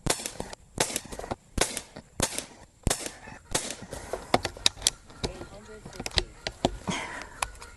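A .25 caliber Umarex Gauntlet 2 airgun fired at a target, a series of sharp close cracks at irregular intervals, with someone talking between shots.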